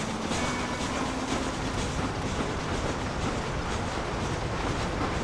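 A train rolls past in the Western video game Red Dead Redemption, a steady, loud rumbling wash of wheels and wind that holds for several seconds with no talk over it.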